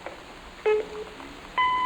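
Electronic answering machine beep from the video game Gone Home, sounding as two short tonal bleeps separated by a pause, clear and close with a quiet background and no talking.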